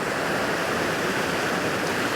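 The main waterfall on the Lurg Burn, a stream, pours in a continuous dense roar of broadband noise, loud and unbroken, with no voices.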